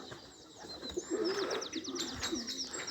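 Pigeons coo outdoors in a vegetable garden with raised beds of garlic and onions, their soft, low, rolling calls repeating at moderate distance. Sharper chirps from other birds mix in, over light background noise.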